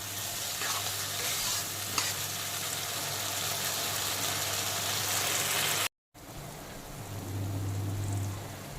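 Masala frying in a pan over a low-medium flame hisses steadily as a spatula stirs and scrapes close by, with a brief silent break partway through before the sizzling resumes.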